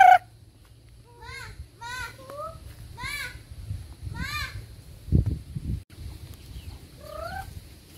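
Chickens cluck and squawk in a rural farmyard as they are fed, several close calls in short bursts, with children's voices and low background noise beneath.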